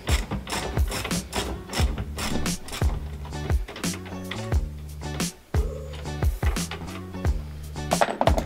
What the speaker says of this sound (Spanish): Aquí tengo ya la carraca preparada.